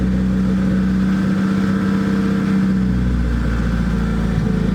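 Car engine fitted with an eBay turbo and upgraded cams idles loud and close, a steady deep lumpy rumble with a slight droop in pitch partway through.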